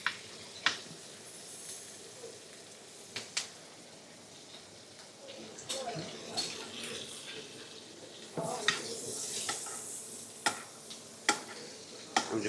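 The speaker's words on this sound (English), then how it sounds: "So we're just literally just going to start to brown this butter off a little bit." Butter browning and being basted in a pan in a restaurant kitchen, a soft continuous sizzle punctuated by sharp clinks and spoon taps, with a brief burst of louder spattering and some quiet background noise.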